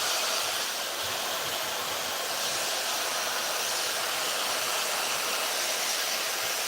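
A new hair dryer with a diffuser attachment runs continuously while drying wavy hair, a loud, steady airy whoosh and hiss with no breaks and no talking.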